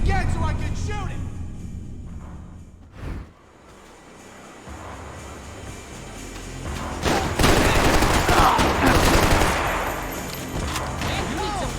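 Gunfire and crashing impacts from the video game Max Payne 3, with loud bursts of shots amid explosive clatter and background game noise, with voices talking over parts of it.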